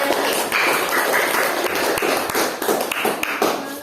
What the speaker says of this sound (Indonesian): tepuk tangan dong untuk tanggapannya